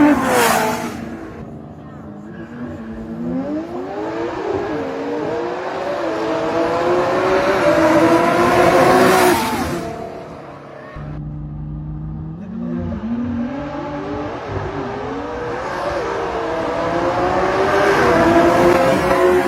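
A McLaren and a Nissan GT-R drag racing: engines rev and accelerate through rising gear shifts, loud and close, then a second run climbs again after a short gap, with someone talking over parts of it.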